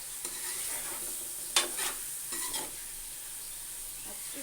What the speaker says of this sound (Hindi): इसको 2 मिनट हम इसी तरह भूनेंगे